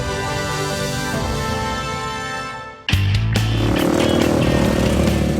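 A trail motorcycle engine drones steadily, then cuts to a sudden louder roar as the bike revs hard close by, buzzing and snarling, on Liwutongkidi Island, Indonesia.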